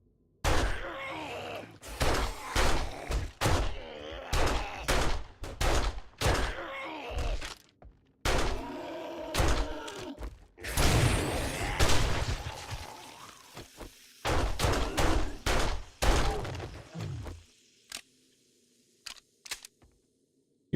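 Repeated gunfire from 7 Days To Die, in sharp loud bursts of shots with brief pauses between volleys, a rapid staccato run near the middle and scattered single shots trailing off toward the end.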